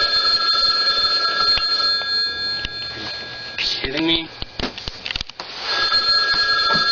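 An old-fashioned telephone bell rings loudly and persistently in bright, sustained trills, with a brief break where someone speaks over it before the ringing resumes.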